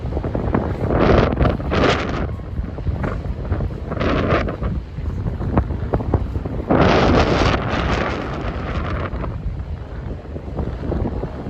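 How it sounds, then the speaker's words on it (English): Strong wind gusting across the Hudson Yards area of New York City at night, roaring and buffeting the microphone in continuous loud waves with sharper gusts throughout. "It's always really windy every time you go over the Hudson Yards."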